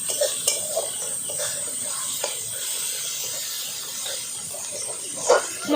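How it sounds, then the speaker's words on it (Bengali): Spice paste of cumin powder and ground chili being stirred and fried in a pan for a mutton-fat yellow pea curry, with a steady hiss of sizzling and occasional scrapes and clinks of a utensil against the pan, close by. "মশলাগুলো খুব ভালো করে কষিয়ে নেব।"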